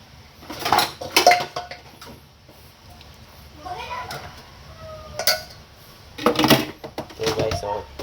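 Dishes, pots, pans, glasses and bowls being washed by hand, with intermittent clinks and clatters of cookware and cutlery in bursts, while a person talks over the work.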